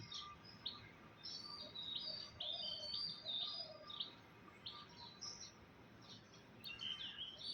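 Small birds chirp and tweet in quick, scattered bursts in a tree beside a house in the morning, soft and a little distant over quiet background hiss.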